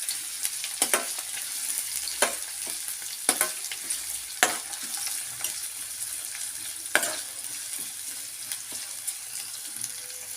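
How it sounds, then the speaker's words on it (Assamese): Onions sizzle steadily in a pan for a vegetable pulao while a spatula scrapes and stirs at irregular intervals, a few sharp clacks standing out against the soft frying hiss. "আৰু পিয়াজখিনি মই এতিয়া খুব ভালদৰে ৰঙচুৱাকৈ ভাজি লম।"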